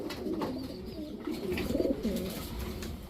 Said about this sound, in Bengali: খুবই সুন্দর একটা নর কবুতর।